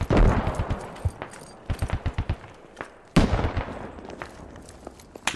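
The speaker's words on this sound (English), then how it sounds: "I just heard that AK go off" Bursts of AK rifle fire in a military first-person shooter, sharp close cracks in rapid clusters with a heavy volley near the start and another loud burst midway, echoing over a busy combat scene.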